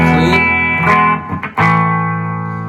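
Kramer VT-211S electric guitar played through a clean tone, a few sustained chords ringing out with a short break in the middle before another strummed chord decays alone.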